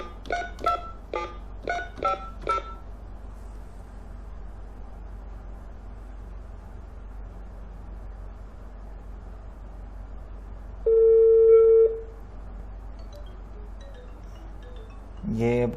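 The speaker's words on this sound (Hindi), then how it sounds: "अब मैं कॉल मिलाऊंगा।" A Jazz 4G home router is used to place a phone call: a quick run of DTMF keypad tones, then a long quiet wait, a steady ringback tone near the end and a final clatter.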